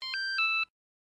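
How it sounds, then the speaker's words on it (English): Triple electronic tone from an ignition interlock device after a passed breath test, three short clear beeps in quick succession, fairly quiet and close, then silence. "and a triple tone will sound"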